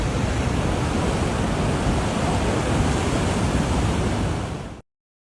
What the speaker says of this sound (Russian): Огромные волны высотой до 40 футов обрушились на Тихоокеанский регион и остальную часть побережья Калифорнии после сильного шторма.